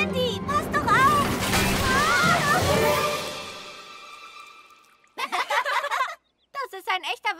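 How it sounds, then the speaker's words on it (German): Water gushes and splashes loudly from a tipped-over water tank in a children's cartoon, a sustained sloshing rush that fades out before voices speak. "Vorsichtig, Sandy, Vorsicht, der Wasserspeicher kippt um."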